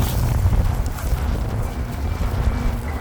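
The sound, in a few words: strong wind outdoors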